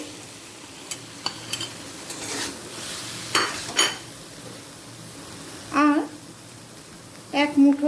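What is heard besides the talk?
chopped papaya added to potatoes and spices, stirred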